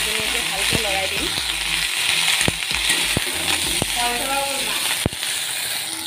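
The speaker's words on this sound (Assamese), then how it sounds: "এতিয়া এইখিনি টাইমতে মই কচুখিনি দি দিলোঁ" Chunks of taro root sizzle and fry in a hot wok, with steady crackling oil and intermittent scraping clicks from stirring, loud and close throughout, with a few tonal background sounds and no talking.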